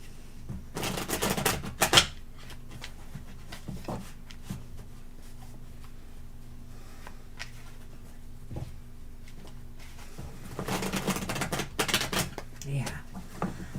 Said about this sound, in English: These are a little easier to shuffle